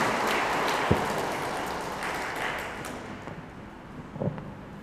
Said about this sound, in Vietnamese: Cộng đoàn chúng ta một tràng pháo tay thật lớn để chúc mừng cho anh chị.